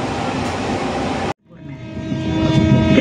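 A long Indonesian freight train of fuel tank wagons rolls past close by, a loud steady rumble and clatter that cuts out for a moment, then resumes with rising rail noise and squealing wheel tones.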